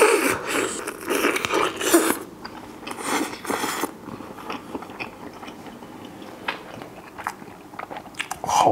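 Roast chicken, stewed and then roasted, is bitten and chewed up close, with crisp crunches and wet chewing in bursts, heaviest at the start and then quieter and more sporadic.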